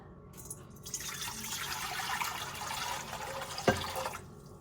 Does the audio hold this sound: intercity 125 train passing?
no